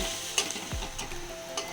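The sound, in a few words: chopped garlic and green chilli frying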